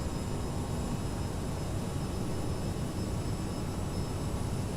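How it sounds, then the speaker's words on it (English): Steady, loud jet roar of a simulated CRJ700 in Microsoft Flight Simulator as the throttles come up, a continuous broadband rush with no pauses or talk. "I'm going to bring my throttles up"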